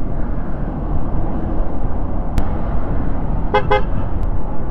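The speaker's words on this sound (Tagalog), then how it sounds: "Lakas ng busina ko" Two short, sharp car horn honks in quick succession cut through a steady rumble of engine and road noise.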